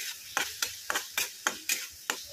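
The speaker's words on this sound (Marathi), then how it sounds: "तो छान असा मिक्स करून घेऊया." A spoon stirs coriander and coconut masala in a pan, giving about seven regular scraping strokes with a light sizzle, close and clear, with no voices.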